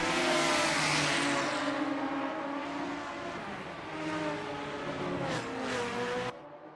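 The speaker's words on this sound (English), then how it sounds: "Weller can definitely hear those V12 valves screaming behind him now." V12 race car engines in the Assetto Corsa racing game scream at high revs in a sustained loud roar with shifting pitch, dropping off abruptly near the end.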